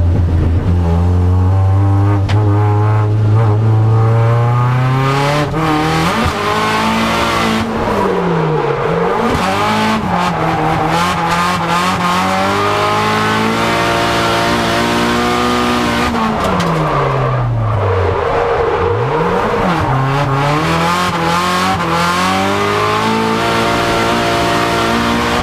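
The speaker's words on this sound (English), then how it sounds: "warm up the cars a little bit around the track, and get a few practice laps in" Nissan 180SX with an SR20 engine drifting around a race track, its loud engine revving and rising and falling in pitch with repeated throttle blips, accompanied by tire squeal throughout.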